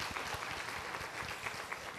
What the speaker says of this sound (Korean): 하나님 앞에 약속하는 박수 한번 올려드리겠습니다